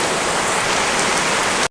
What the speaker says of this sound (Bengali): তার মধ্যে বৃষ্টি শুরু হয়ে গেছে।